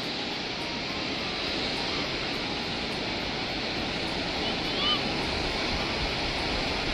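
Jog Falls waterfall roaring as a dense, constant broadband rush, loud and unbroken throughout, heard from nearby.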